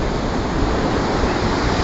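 Open water that a person wades into for a swim sends out a loud, unbroken rushing wash, dense and even from start to finish with no distinct splashes or voices.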